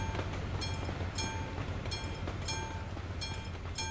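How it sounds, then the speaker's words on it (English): A train rolls slowly past a level crossing in the Euro Truck Simulator 2 driving game, with a low steady rumble and regularly spaced metallic wheel clicks over it, alone and moderately loud. "Why does the train go right slow past the crossing?"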